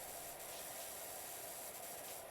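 Steady pressure washer jet in PowerWash Simulator, a continuous broadband hiss held at even level throughout, fairly quiet, with no talking.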